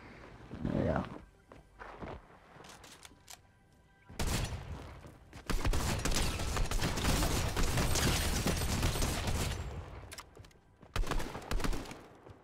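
Gunfire in the Fortnite battle royale, bursts of shots mixed with footsteps and game noise, loud and dense in long stretches, with a player talking over it.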